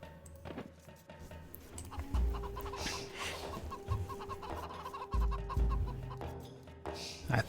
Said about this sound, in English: I was hearing some chickens